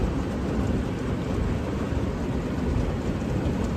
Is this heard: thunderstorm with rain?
yes